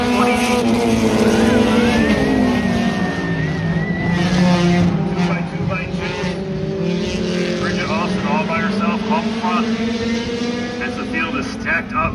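Sports compact race cars at a short track heat race roar loudly and continuously as they battle for position, engine tones rising and falling with a race commentator talking over them throughout.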